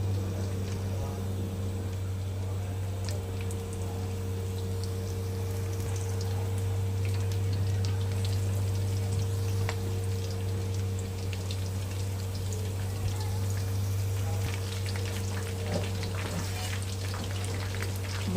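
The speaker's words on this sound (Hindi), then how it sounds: "ये दूसरे जो बचे थे उनको भी फ्राई करते हैं" Chicken drumsticks frying in hot oil, a continuous close crackling sizzle with a steady low hum underneath, holding evenly throughout without talk.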